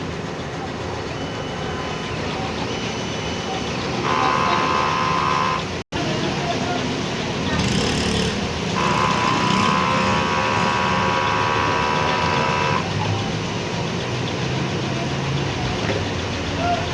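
A 60 cm DTF printer running a print head bleed cycle, a steady mechanical hum with tonal whirring passages from the pump and carriage, close and fairly loud.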